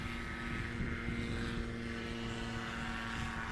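A STOL airplane takes off at Ontario Municipal Airport in Oregon during practice for a STOL competition, its propeller engine droning steadily at a moderate distance, with no talking.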